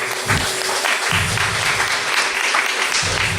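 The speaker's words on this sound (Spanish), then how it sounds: "Dale ese aplauso a la palabra de Dios" A church congregation breaks into steady applause during a Spanish-language sermon, a dense wash of many hands clapping together, moderately loud and close throughout with no voice over it.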